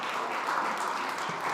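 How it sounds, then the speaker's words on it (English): Audience applause for panel speakers at a SXSW session, a short burst of steady crowd clapping heard alone for under two seconds. "Round of applause."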